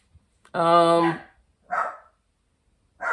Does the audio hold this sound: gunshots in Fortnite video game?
no